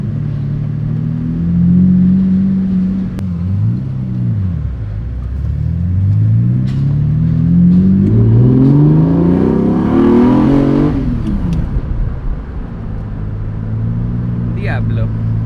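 A Lamborghini Diablo 6.0 engine on a drive, a steady rumbling drone that swells in pitch as it accelerates and then settles, with talk over it.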